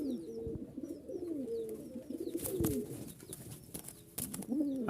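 A male pigeon, one of a pair of red giribaz, or tumbler, pigeons kept for sale, coos in repeated rolling phrases, close and clear, with faint chirps from other birds behind.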